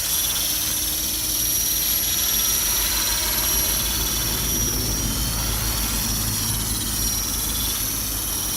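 A T-Rex 450 RC helicopter flies and comes in to land, its high-pitched rotor and motor whine steady and loud throughout, with no talking.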